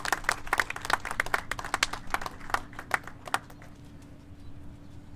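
A small crowd at a city government meeting gives the mayor a brief round of applause: distinct, sharp claps that are brisk at first, then thin out and stop after about three seconds, leaving a low hum.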